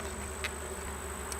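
Honeybees buzzing steadily around an open hive frame of capped brood, a soft continuous drone with a couple of brief closer buzzes passing by.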